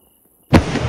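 A single firework shot from a 12-shot cake in the Fireworks Mania game mod bursts loudly out of near silence and trails off in a crackling rumble.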